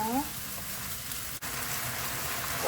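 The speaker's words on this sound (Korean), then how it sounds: "볶아 보도록 할게요 지글지글 국물이 하나도 없이 바삭하게 볶아주세요" Steady, dense sizzling of soy-sauce pork bulgogi stir-frying in a hot pan, a constant crackling hiss with a brief dip near the middle.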